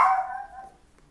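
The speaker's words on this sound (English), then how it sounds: "Sorry about my dog barking." A dog gives a single short bark that trails off, fairly close and alone with no talking.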